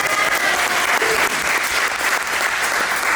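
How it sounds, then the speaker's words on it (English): A conference audience applauds at a creative summit, a steady dense wash of clapping that holds loud and even throughout, with no voices over it. "Round of applause."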